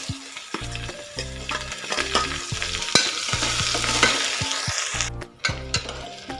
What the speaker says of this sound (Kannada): 1 ನಿಮಿಷ ಫ್ರೈ ಮಾಡ್ಕೊಳ್ಳೋಣ